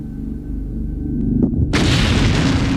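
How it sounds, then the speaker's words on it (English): A test bomb goes off inside aircraft luggage in a Federal Aviation Administration test. A low, quiet lead-in breaks into a sudden loud, broadband blast that roars on with sustained rumble. "But could glare even stand up to terrorist attack, like these bomb explosions?"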